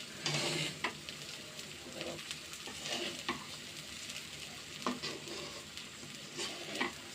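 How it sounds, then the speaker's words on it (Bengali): Khichuri ingredients with black pepper fry and sizzle in a pan while being stirred, giving a steady close crackle with repeated scraping strokes and no talking. "সুন্দর করে ভেজে নিব, একটু ধৈর্য ধরে দেখবেন।"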